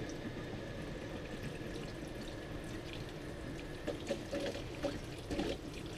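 Cold water runs steadily from a nearby camper tap, a constant soft rushing with a few faint drips and splashes toward the end.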